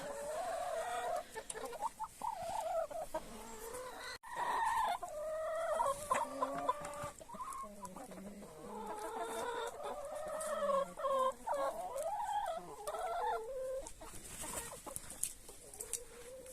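Several Grizz Sandy meat-and-egg cross chickens cluck and murmur continuously close by, a busy overlapping chatter of soft calls from the flock.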